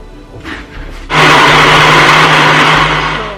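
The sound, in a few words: blender blending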